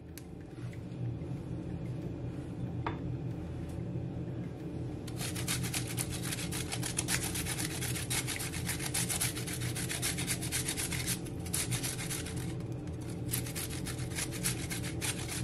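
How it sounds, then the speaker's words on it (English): Ginger and garlic rasped against a kitchen grater while making seafood chow mein, a steady close scraping that grows denser and brighter after the first few seconds and runs continuously with no talking. "It doesn't matter how it grates, just make sure that you just add ginger to it and the garlic."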